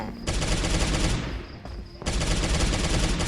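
Dense rapid gunfire rattles loudly in the dinosaur survival video game Jurassic Survival, a continuous automatic burst that briefly drops away for about a second before resuming at full intensity.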